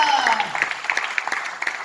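A church congregation breaks into applause, scattered claps building into a busy patter while a voice and lingering tones carry over the top.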